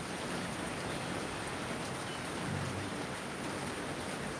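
Steady rain falls in a high, cool area, a dense, even hiss of drops that stays constant and fills the scene without any voices.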